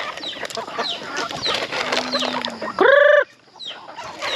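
Native chickens cluck and chatter continuously at moderate distance, followed by one loud, drawn-out squawk near the end before the flock's murmuring resumes.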